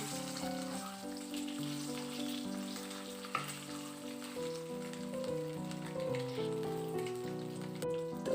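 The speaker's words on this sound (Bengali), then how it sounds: "আর এই ডিমগুলোকে বেশ লাল করে আমি ভেজে নেব" Eggs fry in hot oil until well browned with a steady crackling sizzle, faint under a sustained tonal background, with no speech.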